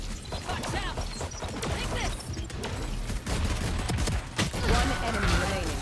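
Gunfire in the video game Valorant, with bursts of rapid shots and impacts over game effects. A player's excited voice talks over the fire.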